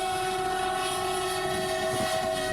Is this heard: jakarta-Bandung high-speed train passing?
yes